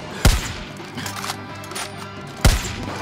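Rifle fire in the video game Far Cry New Dawn, two sharp, loud single shots about two seconds apart over a low game background.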